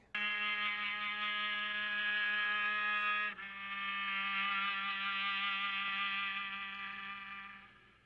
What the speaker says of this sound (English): experimental musician who likes to record all sorts of instruments underwater